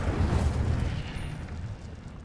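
An Incendio fire spell cast in Hogwarts Legacy, a quick whooshing flare with a deep rumbling burst that fades over two seconds, fairly quiet and without talk.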